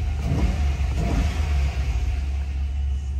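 Chevrolet Trailblazer SS engine with a swapped intake, revving steadily in a deep low rumble that holds loud and continuous throughout, with no voices over it.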